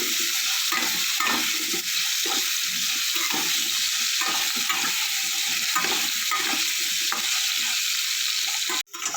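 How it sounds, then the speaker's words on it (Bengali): Potatoes seasoned with salt and turmeric fry in a pan with a dense, continuous sizzle and rhythmic scraping stirs, close and loud, ending with a brief sharp drop. "আলুটা আমার লাল লাল করে ভাজা হয়ে গেছে"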